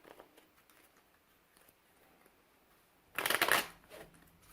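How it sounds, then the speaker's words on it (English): A deck of playing cards is shuffled in a quick burst of riffling near the end, after a few faint handling sounds. "take the deck of game cards, shuffle them"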